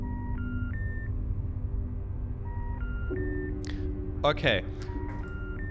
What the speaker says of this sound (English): That's the noise of like a digital telephone,